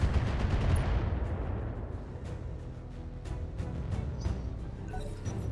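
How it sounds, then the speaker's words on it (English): A long-range missile barrage in the BattleTech video game, a dense, loud rumble of overlapping blasts and crackling impacts that starts heavy and keeps rolling steadily for several seconds. "That's an LRM barrage."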